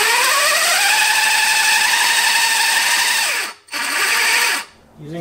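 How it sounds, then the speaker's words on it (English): A saber saw cuts quarter-inch mild steel with a loud, steady high-pitched whine. The cut drops out briefly twice near the end. "Using a saber saw for cutting quarter inch mild steel."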